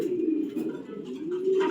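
A young racing pigeon hen coos close by, one low throaty rolling coo lasting the whole brief moment, with no talk over it.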